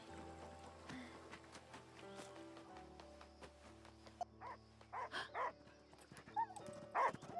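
A puppy in the video game Last Day of June gives a few short yips and whimpers that come late and grow louder, over a quiet, sustained musical background.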